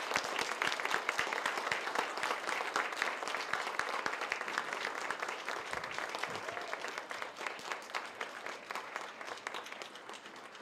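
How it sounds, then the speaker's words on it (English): An audience at an adult learner awards ceremony gives a long, sustained round of applause for the award winners, a dense, even wash of many hands clapping that continues for about ten seconds. "I'd like to give one more round of applause for all of our Outstanding Adult Learner Award winners tonight."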